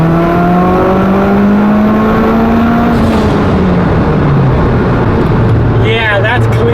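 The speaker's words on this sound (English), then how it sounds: "it is exciting doing our first pull in the Evo 10" A Mitsubishi Lancer Evolution X engine on about 15 psi of boost pulls hard, its loud drone climbing steadily in pitch, then dropping and settling, with people talking over it.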